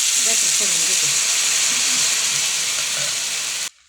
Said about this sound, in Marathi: आता मी ह्याच्यामध्ये पळीनं असं बॅटर सोडून घेते